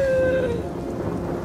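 Rain patters steadily with a low rumbling undertone, a brief tonal sound fading out at the start, no voices.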